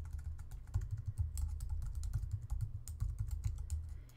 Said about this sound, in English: I'll type in this full URL